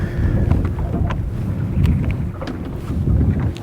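Strong wind buffets the microphone in heavy, continuous gusts on open water, with a low rumble of a boat and faint splashing underneath.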